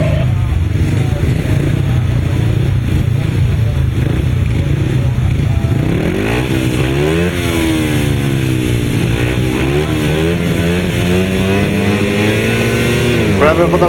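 500cc solo grasstrack motorcycles race past with loud, continuous engine roar. Rising and falling revving sweeps through the second half, and a commentator talks over the noise.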